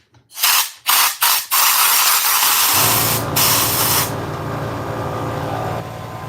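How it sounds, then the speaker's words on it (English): An air compressor blows a loud blast of air through a filter, a long steady hiss with a few short bursts at the start, then a lower mechanical hum and rumble continuing underneath. "there went the compressor."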